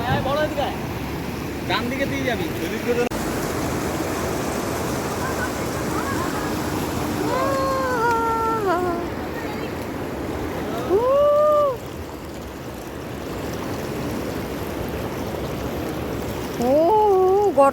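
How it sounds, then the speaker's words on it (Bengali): The fast, strong current of the Du Lung river rushes in a constant broadband wash, with people talking over the flowing water. "স্রোত আছে ভালোই"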